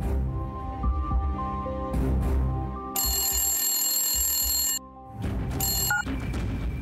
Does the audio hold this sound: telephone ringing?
yes